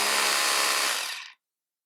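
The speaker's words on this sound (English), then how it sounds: "when we pull it back in, we can continue drilling" A cordless drill whirs at full speed, loud and close, then cuts off abruptly as the trigger is released and its sound winds down to silence within about a second.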